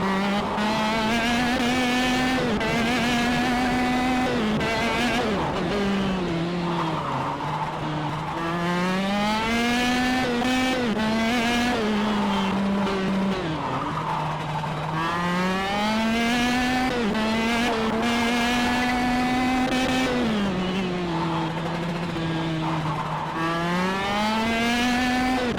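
KZ2 racing kart on a track, a high buzzing two-stroke engine rising and falling in pitch through repeated acceleration and braking, loud and continuous with no talk.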